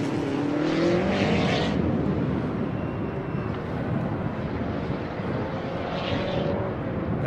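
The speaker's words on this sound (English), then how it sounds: "That is a Porsche 911S right there" Porsche 911S race car at speed on Circuit of the Americas during a super lap event, engine note rising and shifting as it passes, heard from a distance with wind buffeting.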